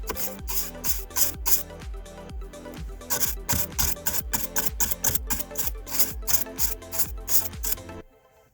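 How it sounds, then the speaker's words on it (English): Car cleaning gadget rubbed back and forth on a chrome part, producing close, rhythmic rasping scratches in quick strokes that continue steadily for several seconds, then stop. "It makes scratches on this chrome part."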